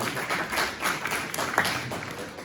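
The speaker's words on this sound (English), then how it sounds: "Let's give a round of applause for our panelists." An audience at a convention panel gives a short, moderately loud round of applause, with dense clapping that stays even throughout.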